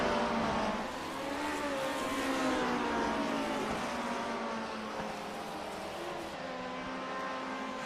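A vintage Lotus 49 Formula One car with a DFV engine races around Mid-Ohio in the iRacing simulator, its engine droning and revving continuously with shifting pitch as it climbs and eases through gears.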